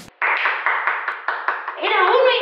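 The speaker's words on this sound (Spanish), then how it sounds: "Y por eso merece un aplauso." A small group clapping in applause, a run of quick, close, fairly loud hand claps in an irregular rhythm, ending in a burst of excited voices and cheering.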